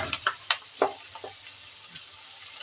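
Onion and okra frying with turmeric in a pan, a steady soft sizzle with a few light stirring clacks near the start, close and moderately quiet.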